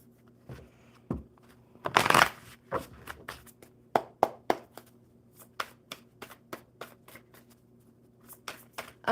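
Playing cards being shuffled by hand, a burst of riffling followed by a string of sharp taps and flicks, close and fairly quiet with no talk.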